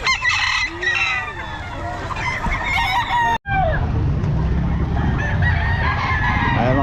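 Gamefowl roosters crow over and over, with clucks, across a busy market where people talk in the background. A short dropout cuts the sound midway.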